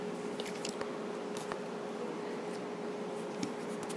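Pen scratching out pink triangles on a unit circle diagram, soft intermittent strokes and taps close by over a quiet background hum.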